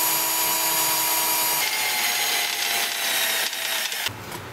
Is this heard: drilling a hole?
yes